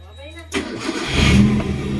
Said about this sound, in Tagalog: May maingay yung sa sa head ng kotse na to.